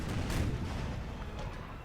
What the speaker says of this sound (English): Let's give the cannons one shot before we move up.